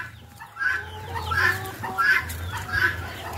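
Guineafowl call from a farmyard among free-range chickens, a run of repeated harsh, rhythmic cries at moderate distance over a low background hum.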